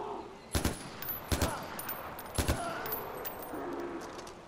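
Gunfire in Far Cry 4: three sharp, loud shots spaced about a second apart, with a faint, busy background behind them.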